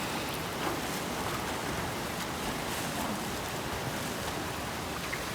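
Heavy rain pours down on a resort swimming pool in Wayanad as a constant, dense hiss of drops striking water and surfaces. It holds at an even level throughout with no voices.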